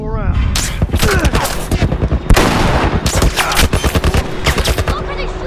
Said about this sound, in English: What are they shooting at us with?